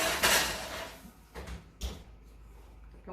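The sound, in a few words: oven door opened and pound cakes put inside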